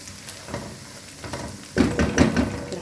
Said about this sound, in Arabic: انا بحمر البصل اهو بتاعه المحشي